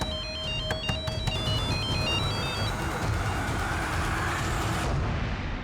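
A phone ringtone chirps in a quick repeating melody for a couple of seconds, then stops, leaving a steady loud rumble of background noise.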